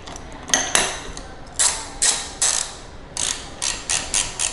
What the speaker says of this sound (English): And just tighten our nut again.